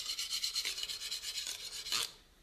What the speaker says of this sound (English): with the bread knife, you actually have to go in and out of the grooves of the serrated to get the edge back on